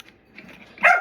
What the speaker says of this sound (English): I tried to get my dog to stop barking